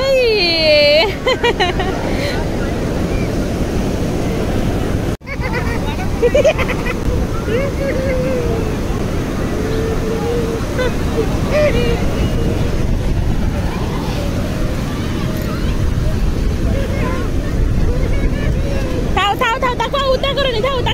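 Ocean waves roll and crash continuously at Puri beach, mixed with wind buffeting the microphone and a crowd murmuring nearby as people talk.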